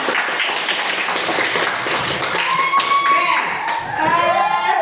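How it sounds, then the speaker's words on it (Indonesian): Children in a classroom clap their hands together, a busy close patter of claps with voices and excited chatter, and a few whistle-like tones at the end. "Oke, tepuk tangan."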